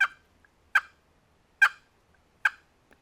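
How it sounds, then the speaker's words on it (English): A wooden turkey box call worked in short, popping strokes to make clucks: four sharp, evenly spaced clucks close by, each a quick bright note with a slight rasp, separated by silence. "If you would want to cluck on this call, basically it's the same concept."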